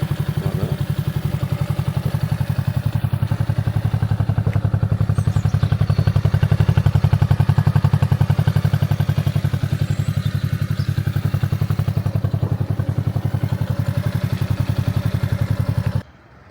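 A Honda C90 motorcycle's small single-cylinder engine runs steadily after a kick start, a close, loud, even putter that holds for a long stretch before cutting off abruptly.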